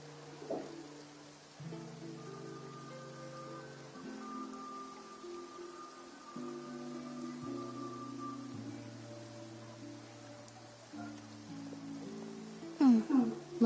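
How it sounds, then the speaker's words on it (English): Rain falling in the video game Genshin Impact, a steady soft hiss running the whole time beneath sustained musical chords, with a brief sharper burst near the end. "Looks like rain."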